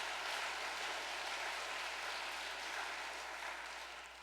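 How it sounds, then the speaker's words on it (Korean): An audience at a church gathering gives a steady wash of applause, even clapping from a large room that fades gently toward the end, with no talk over it. "참 어머니께 큰 감사의 박수를"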